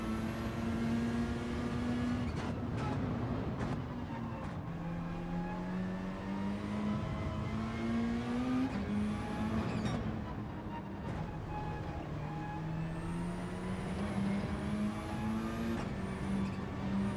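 A race car in Gran Turismo 7 powering out of corners, its engine note climbing in pitch again and again with short drops at gear changes, steady and fairly quiet, with brief clicks between pulls.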